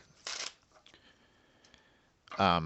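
Tarot cards are shuffled in two quick riffling bursts, a crisp papery flutter near the start and again at the end, with a soft voice in between.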